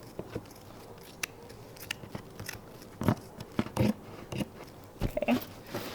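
Scissors snipping through couch upholstery fabric, a faint scatter of short, sharp cuts and crisp crunches spaced irregularly, close by in a quiet room.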